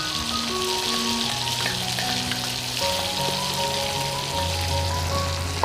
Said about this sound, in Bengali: দিয়ে দিলাম আমি আরেকটু তেল, দিয়ে দিলাম পেঁয়াজ কুচি, আদা, রসুন, কাঁচা লঙ্কার পেস্ট